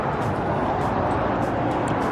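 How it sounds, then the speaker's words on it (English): Steady road traffic roars as a broad continuous rumble beside an outdoor trail near Orderville, Utah, fairly loud with a few faint passing whooshes and no clear talking. "Sorry about the noise in the background from the road"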